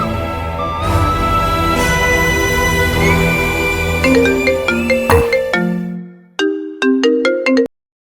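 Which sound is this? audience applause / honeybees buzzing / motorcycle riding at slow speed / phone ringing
phone ringing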